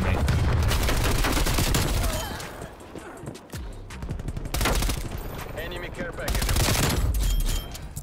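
Rapid automatic gunfire bursts from a Call of Duty: Black Ops Cold War match, loud and dense, with booming shots and crashes, a short lull near the middle, then renewed firing; a player talks over parts of it.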